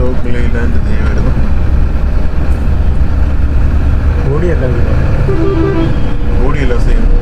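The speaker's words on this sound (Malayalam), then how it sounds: "ഏഷ്യർ അശോക് ലൈലാൻഡ് വരുന്നു." On a congested highway, an Eicher Ashok Leyland vehicle approaches with a heavy, close engine roar over constant traffic rumble, while a voice talks intermittently over the noise.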